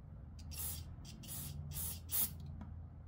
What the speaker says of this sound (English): you take your carb cleaner and you spray it right through the hole.